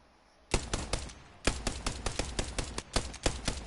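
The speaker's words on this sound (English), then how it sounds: "And it has a good amount of ammo since it's an LMG" A light machine gun in Apex Legends fires at a training dummy in two loud, close bursts of rapid, evenly spaced shots, a short volley followed by a longer stream with no talk over it.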